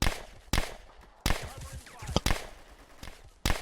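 Gunfire in the World War II shooter Easy Red 2 cracks out in sharp, loud single shots at irregular intervals, with a brief short burst near the middle and a faint shout between reports.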